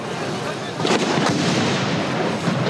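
Loud bursts of gunfire and explosions in a war zone crack through a noisy, dense background, with sharp impacts standing out around the middle.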